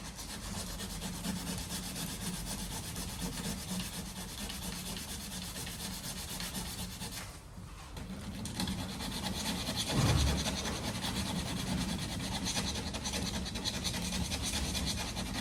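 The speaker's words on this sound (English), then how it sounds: "I'm just going to sand all this out nice and smooth" Sandpaper rubs back and forth over a Ford Transit MSRT grill trim, producing a continuous close scratchy rasp with a brief pause midway before it resumes slightly louder.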